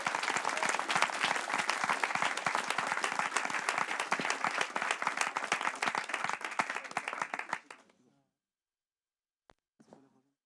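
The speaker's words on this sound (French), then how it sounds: "un tonnerre d'applaudissements du coup pour Mr." Applause from a security conference audience, dense and loud clapping sustained for about eight seconds before stopping abruptly, followed by near silence with a couple of faint, scattered sounds.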